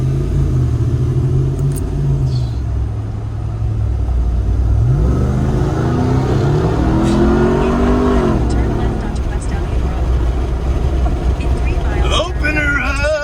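A RAM TRX pickup truck's engine rumbles, then revs and accelerates hard with rising engine tones, loud and close, and a voice can be heard over it.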